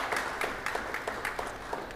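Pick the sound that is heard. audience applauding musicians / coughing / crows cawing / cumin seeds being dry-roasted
audience applauding musicians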